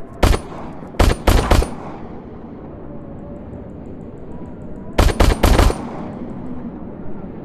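Gunfire in the VR video game Crashland on the Oculus Quest 2. Two loud close volleys of three to four rapid shots each, spaced several seconds apart, with quiet ambience between.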